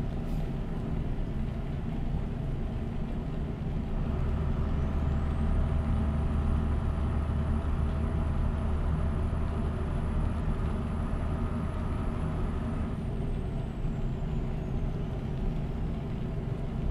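Scania R 4x2 truck slowing down in Euro Truck Simulator: a steady low diesel engine rumble with a long rising-then-falling whine as it decelerates, continuous and close, with no voices.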